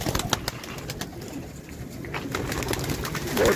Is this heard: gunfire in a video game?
no